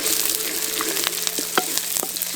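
Small shallots sizzle steadily in hot oil for a dried-fish (masi karuvadu) curry, a dense crackling hiss with occasional sharper pops and light stirring scrapes, close and continuous with no talk.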